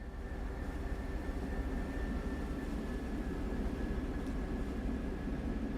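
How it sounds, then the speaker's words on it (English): An approaching train pulling into a station platform in the Train Sim World 2 railway simulator, a steady broad rumble with a faint tonal whine, holding at an even level throughout with no voices. "I hear something coming. Hello, train."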